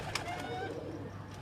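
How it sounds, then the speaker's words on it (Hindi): Topi breed pigeons coo softly on a Rawalpindi rooftop, a faint, low murmur over quiet background noise in a brief stretch. "ये टोपी ब्रीड के कबूतर"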